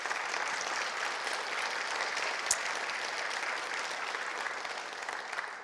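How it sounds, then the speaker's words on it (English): Sustained applause from a plenary session audience, a steady dense wash of clapping at even loudness throughout with no talk over it. "So could we give all of those planners a great round of applause,"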